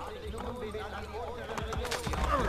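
Hooves of a horse clip-clopping in the video game Assassin's Creed Brotherhood, heard as a few soft, quick hoof beats under someone talking, with game ambience behind.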